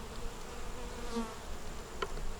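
Bees buzz faintly and steadily around a deep nucleus hive that has been robbed out, with only a few bees and the queen left, a low continuous insect drone with no talking.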